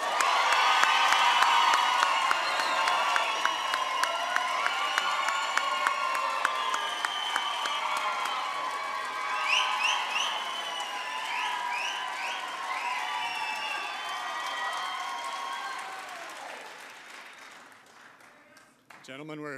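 Audience at a debate between Andrew Romanoff and Michael Bennet applauding and cheering: a loud, dense wall of clapping with whoops and shouts that holds for over fifteen seconds, then thins and fades toward the end.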